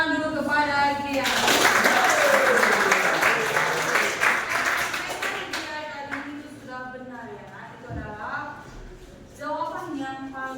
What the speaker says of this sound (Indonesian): kita beri tepuk tangan dulu kepada dia